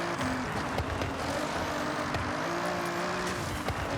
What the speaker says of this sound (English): this is the standard engine in this car, by the way, just massively upgraded